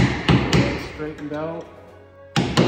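A screwdriver is hammered to pop fasteners while separating the hull and deck of an old fiberglass boat, giving a few sharp taps and thuds around a man's speech.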